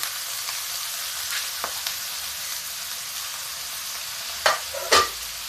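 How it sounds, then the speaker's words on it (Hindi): Eggplant pieces sizzle in a hot pan with sprouted fenugreek, a steady close hiss broken by a few light scrapes and two sharper bursts of sizzling near the end, with no voices. "मेथी डालने के बाद अब ये बैंगन हम डालते हैं।"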